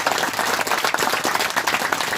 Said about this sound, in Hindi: वो ऐसे जो वीर बहादुर है किसान कौम के, उनके लिए एक बार जोरदार ताली बजा दी जाए।